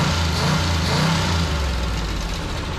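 A 427 Corvette V8 with a four-barrel carburetor rumbles steadily at close range, idling with slight revving and a faintly ticky note.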